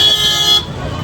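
Heavy road traffic in Puri, Odisha during the Jagannath Rath Yatra, with one loud, sustained car horn blast up close that cuts off, leaving the rumble of engines and traffic noise.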